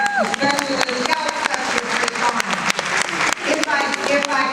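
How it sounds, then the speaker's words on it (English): A crowd at a hair and beauty panel discussion applauds a panelist, with sharp scattered claps and cheering mixed with loud talk and a voice over a microphone. "Let's give a round of applause,"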